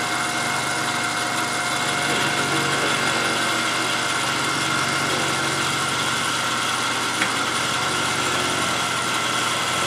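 A Proxxon 250 benchtop metal lathe runs steadily, giving a loud, continuous motor whir and hum that stays constant for about ten seconds with no talking.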